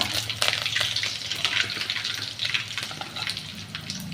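Mustard seeds and curry leaves fry in hot tempering oil for a village-style garlic kuzhambu, giving a steady, close, hissing sizzle with small crackles and no talking.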